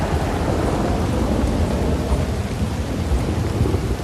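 Torrential rain and thunder in Red Dead Redemption 2: a loud, steady downpour hisses throughout while deep thunder rumbles underneath, with no voices.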